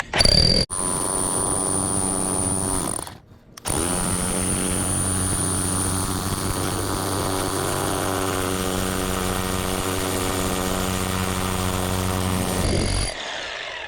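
Rotary hammer bores through a wall at a pilot hole, a loud sustained droning whine with a short pause, then steady drilling before it stops, alone without speech.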